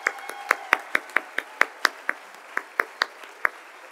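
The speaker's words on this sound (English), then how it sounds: "Give one final round of applause to all of our service pin honorees this evening." At an evening service-recognition ceremony, a handful of people clap for the honorees in a sparse, distinct rhythm of individual hand claps, fairly close and fairly quiet.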